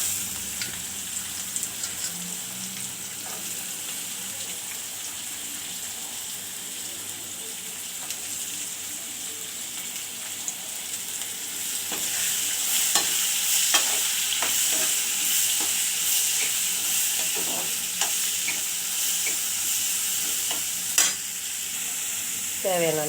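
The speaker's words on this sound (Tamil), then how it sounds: "மஞ்சப்பொடி போட்டு வதக்கிட்டு நறுக்கி வச்சு வெங்காயத்தை போட்டுக்கலாம்." Onions sizzle and fry in a pan with turmeric while a utensil stirs and scrapes them, a steady hiss that grows louder partway through, broken by occasional clinks and scrapes.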